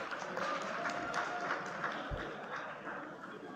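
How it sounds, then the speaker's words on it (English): Audience applause at a university convocation for graduates, a steady dense wash of many hands clapping throughout at even, sustained loudness with no voices standing out. "Please give them a big round of applause"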